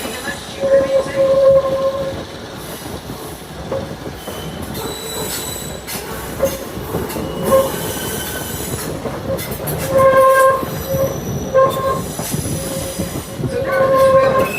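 A Santa Cruz Big Trees & Pacific train running on its tracks, loud rumbling wheels with repeated high metallic squeals and clatter throughout, heard up close from aboard.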